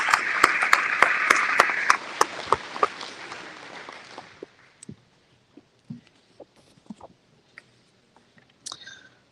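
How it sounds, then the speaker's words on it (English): Applause at a county fair coronation ceremony: a crowd claps steadily for about four seconds, then the clapping dies away into scattered clicks, taps and a few last claps over a quiet room. "let's give another round of applause to Chipper Weiss"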